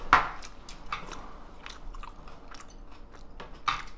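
Crunchy chewing of seasoned spring butterbur greens dressed with doenjang, close and clear, with repeated bites and mouth sounds in an irregular rhythm and no talking.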